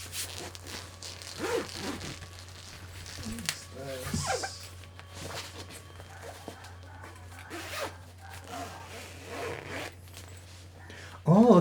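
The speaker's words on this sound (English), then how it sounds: "Let me just zip this side closed." The fabric carrying case of a 52-inch 5-in-1 reflector being zipped closed, several short zipper rasps and rustles spread across the clip under a steady low hum, with brief talk and a louder sound at the very end.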